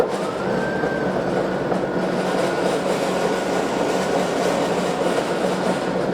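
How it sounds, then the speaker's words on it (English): A Toro 60-volt battery two-stage snow blower drones loudly and steadily for the whole stretch, a dense whirring roar with a faint rising whine near the start. "see what's going on inside that snowblower when we turn it on"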